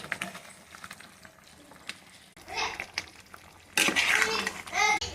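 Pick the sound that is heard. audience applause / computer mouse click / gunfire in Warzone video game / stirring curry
stirring curry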